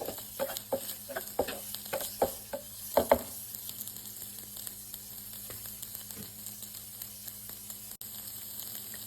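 Shrimp sautéing in a pan for stir-fry noodles, a steady close sizzle broken by a run of sharp scraping stir strokes during the first few seconds before the frying settles into an even hiss.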